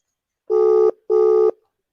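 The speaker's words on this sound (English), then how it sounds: "This is his phone ringing now." Ringback tone of an outgoing phone call, two steady electronic buzzing pulses of about half a second each separated by a short gap, clear and alone with nothing else heard.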